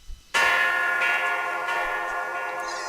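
A bell sound effect rings out after a brief moment of quiet, one clear struck tone that sustains and slowly decays over a couple of seconds.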